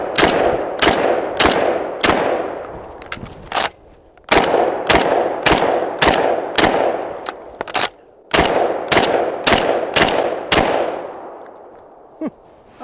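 A Tavor TS12 12 gauge shotgun fired at targets outdoors: a long string of loud, sharp blasts in quick irregular succession, grouped in runs with brief pauses, each shot ringing out with a short decay.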